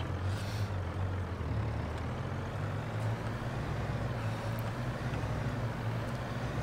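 Farming Simulator 22 game audio of a truck hauling a trailer: a steady, droning diesel engine with low rumbling tones and a faint hiss, continuous and even throughout with no talking.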